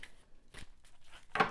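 Cards being shuffled by hand during a psychic reading: a few short, crisp papery riffles, close and fairly quiet, with a stronger burst near the end and no talking.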